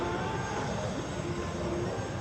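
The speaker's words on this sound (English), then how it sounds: "As you can see, the C-17 is extremely maneuverable at both high and low speeds" Steady, broad jet roar from a C-17 Globemaster III transport flying a demonstration at the EAA AirVenture air show, a continuous distant engine wash with no clear rise or fall.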